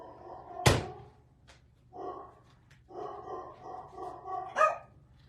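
Dogs bark nearby in short, intermittent bursts, starting after a sharp thump and growing more frequent toward the end, with quiet gaps between.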